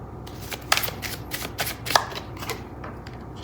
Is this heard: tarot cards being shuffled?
yes